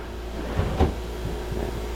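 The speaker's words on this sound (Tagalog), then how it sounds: "Drawer." A wooden cabinet drawer in a commercial space under construction slides and bumps shut once, a short muffled thud over steady background hum.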